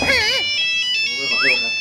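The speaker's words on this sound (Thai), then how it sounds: "ใครโทรหาเนี่ย" Melodic phone ringtone chiming in warbling tones, close and clear, breaking off briefly and then repeating.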